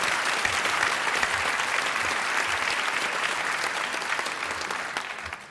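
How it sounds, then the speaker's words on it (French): A live studio audience at a 1981 radio show recorded in Lille bursts into dense, sustained applause, a continuous wash of clapping that holds steady for several seconds and fades slightly at the end. "je vais vous demander d'applaudir comme elle le mérite Madame Bouchet de Saint-Julien en Genevois."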